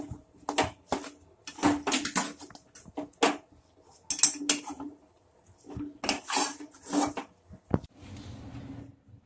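A spoon works semolina and desi ghee together in a bowl for instant suji gulab jamun, giving a series of short, close scraping and clinking strokes in uneven bursts, with no talk.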